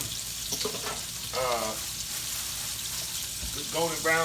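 Old-school honey BBQ chicken wings deep-fry in hot oil with a constant bubbling hiss, while a voice briefly cuts in over the frying.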